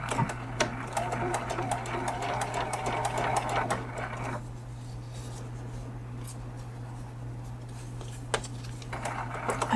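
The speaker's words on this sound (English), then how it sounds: "we're going to go ahead and sew that seam right there" A sewing machine stitches a seam on a paper-pieced quilt, a steady mechanical whirr that runs loud, pauses midway, then resumes, over a constant low electrical hum.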